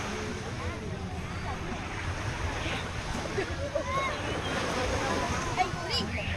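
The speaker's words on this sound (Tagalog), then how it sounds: "Andito yung dagat." Sea waves at night near a hut, a continuous rushing surf with wind noise buffeting the microphone and faint voices in the background.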